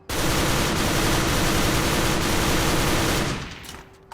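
A JK T91 Hero toy gun fires full auto with the trigger held down. It gives one dense, rapid burst of shots lasting about three seconds, loud and close, then tails off.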